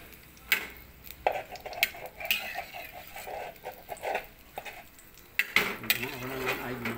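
Buttered shrimp being stirred in a pan with a utensil, giving repeated light scraping and clinking of metal against the pan, close and fairly quiet, with brief talk in places.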